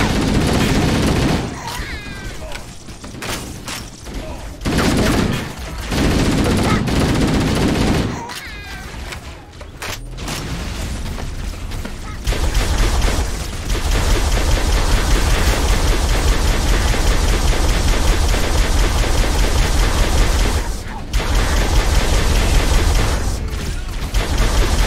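Sustained gunfire and explosive bursts from a Halo: Combat Evolved firefight against the Covenant, loud and dense with brief lulls, heavy near-continuous shooting filling most of the stretch.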